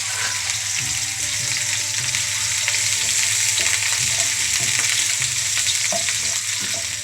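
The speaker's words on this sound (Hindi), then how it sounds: "उसमें हल्का सा प्याज डालकर उसको हल्का सा फ्राई करेंगे।" Onion fries in a little oil in a wok with a dense, steady sizzle and a low hum beneath, occasional stirring knocks cutting through.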